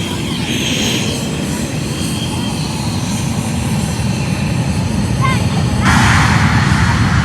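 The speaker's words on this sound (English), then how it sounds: "Watching airplane." A loud fixed-wing airplane flies overhead, its engine roar a steady broadband drone that swells slightly toward the end, heard alone without talk.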